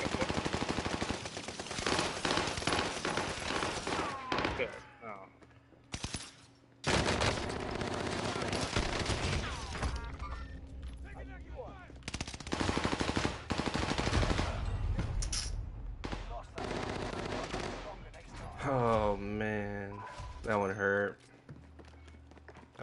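Video game gunfire crackles in rapid bursts and sustained automatic volleys, close and loud, broken by brief pauses, with footsteps and game sounds between the shots.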